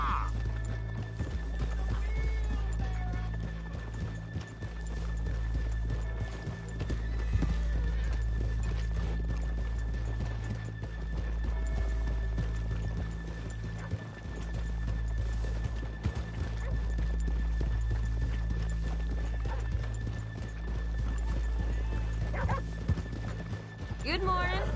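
Video game horses walk with steady, close hoof clops and let out whinnies over a continuous low background hum.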